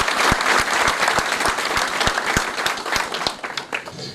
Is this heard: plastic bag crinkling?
no